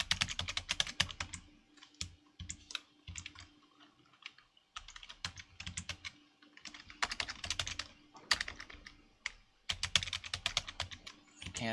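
Someone types a password on a computer keyboard during an Ubuntu 20.04 install, producing close, crisp bursts of rapid keystrokes separated by short pauses.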